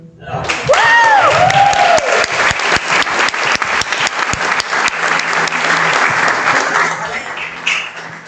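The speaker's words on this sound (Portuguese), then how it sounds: "E eu quero que vocês recebam a vida dela com um louvor de palmas para Jesus." A church congregation claps for Jesus during a youth worship service, dense loud applause sustained throughout with voices and cheers rising briefly near the start.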